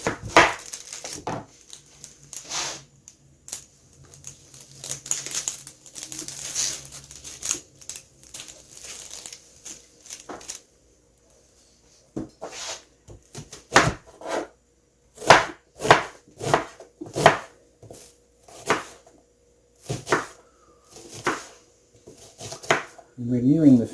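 Red onion is chopped on a cutting board for a chef salad, with bursts of quick knife taps and crisp cutting, pauses, then a run of distinct sharp chops, under occasional talk.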